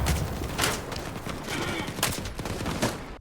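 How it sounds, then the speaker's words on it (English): Heavy gunfire from many weapons at once during a firefight in STALKER 2, with dense rapid bursts of automatic fire in waves and loud cracks standing out against continuous rattling. "that amount of RPM shooting at one time was absolutely ridiculous"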